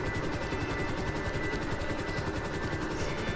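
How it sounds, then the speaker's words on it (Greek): A helicopter in Grand Theft Auto V gives off a loud, continuous rotor chop, a fast and even thudding pulse over a dense engine roar that holds steady throughout. "να προσγειώσω το ελικόπτερο ή να πέσω"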